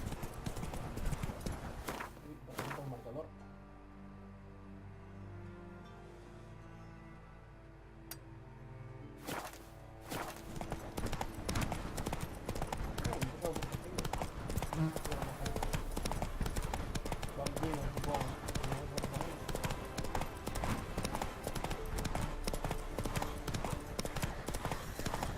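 Hoofbeats of Roach, the horse in The Witcher 3 video game: a rapid, rhythmic gallop that starts, stops for a few seconds amid quieter game sounds, then resumes at a steady pace to the end.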